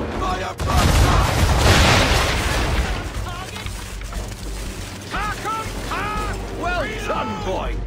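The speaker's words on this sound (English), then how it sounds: "Round shot for a start! Boom! Fire broadside!" A heavy booming volley of ship cannons firing a broadside in Assassin's Creed 3 hits early and loud, then tails into rumbling, creaking mechanisms as voices shout over it.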